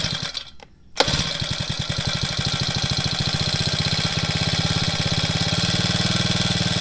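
Cheap new lawn mower engine on a farm in the Philippines, starting up after a brief pause and settling into a loud, steady, rapid chugging run close by.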